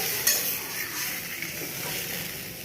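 Hot water poured into a frying pan with potatoes and pointed gourd, a loud close hiss and sizzle with a quick splash at the start, continuing as a steady bubbling rush.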